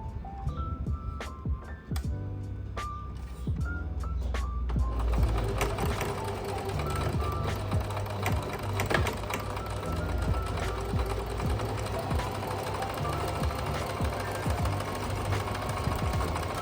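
A sewing machine stitches the ties of a summer blouse in a sewing studio, its steady rapid motor whir and needle clatter running continuously and loudly after a few seconds of quieter handling sounds.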